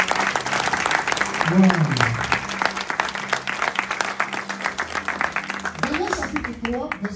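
A church congregation claps and acclaims the Lord in steady, dense applause that carries on throughout, with voices calling out and someone speaking over it at moments.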